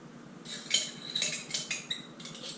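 A metal utensil scrapes and clinks inside a glass mayonnaise jar in several quick, rhythmic strokes, close and fairly quiet.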